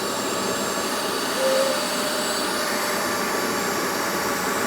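A Bissell Little Green portable carpet cleaner runs steadily, its loud motor whine and airflow rushing continuously as it sucks up through the bottom and blows out the top, close and alone.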